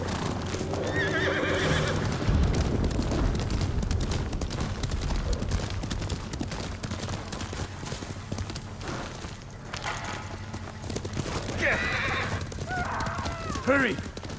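Horses gallop with rapid clip-clop hooves and neigh loudly in the video game Ghost of Tsushima, steady hoofbeats throughout with whinnies near the end, while voices speak over them.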